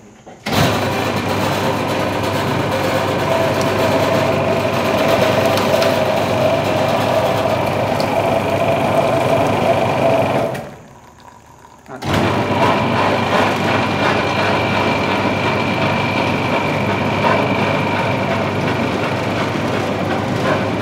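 A motorized sugarcane juice machine runs loudly and continuously while crushing cane, a steady mechanical drone with a grinding texture that stops briefly near the eleventh second and then resumes.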